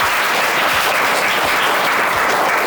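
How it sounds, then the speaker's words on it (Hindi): Students at Jagannath Prasad HS School clap for a classmate named Ayush, a steady, close round of applause from a room full of pupils lasting a few seconds without talk. "आयुष के लिए तालियां बजाओ"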